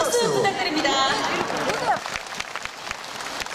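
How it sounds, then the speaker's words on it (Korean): Audience at a trot concert during the Gangjin celadon festival applauding and cheering as a singer is introduced, a dense wash of clapping and crowd noise that swells early then thins, with some talk mixed in. "큰 박수 부탁드립니다."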